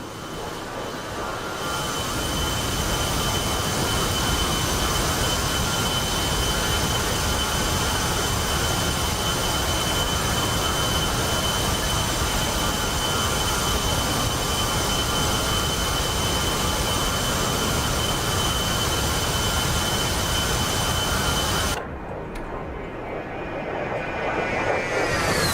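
A video-game aircraft engine labours through a climb with a loud, unbroken jet-like roar. Near the end it cuts off abruptly, then returns more faintly.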